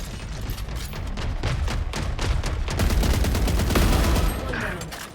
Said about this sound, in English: All missiles away.